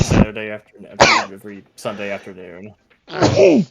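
A single sharp sneeze bursts out near the end, close and loud, right after a stretch of casual talk.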